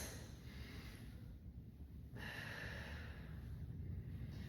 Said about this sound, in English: Notice that I'm breathing,